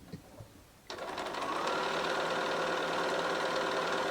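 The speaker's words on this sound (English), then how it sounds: "I'm going to sew this on there first to make it long enough" A sewing machine starts after a brief pause and runs fast and steady, stitching quilt block pieces together with a rapid mechanical whir close to the microphone.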